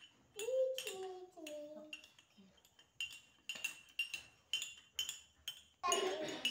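Repeated metal spoon clinks and scrapes against a bowl as ingredients are stirred during a child's sensory play, in a steady rhythm of short taps, with a child and an adult talking at the start.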